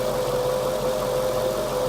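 Wankel rotary engine car idling steadily at about 600-700 RPM, a close, continuous mid-pitched drone with a strong steady tone and a rough, pulsing low rumble underneath throughout.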